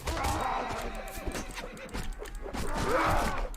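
A horse neighs in the Mount & Blade Warband video game, with shrill whinnies near the start and again near the end over battle noise and hoof clatter.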